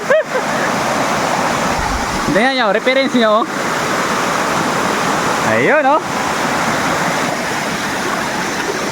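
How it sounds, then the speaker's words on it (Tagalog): A waterfall cascading down in tiered steps gives a loud, constant roar of rushing water, with people speaking briefly over it in a few short bursts. "Naghahagdan-hagdan yung tubig dito."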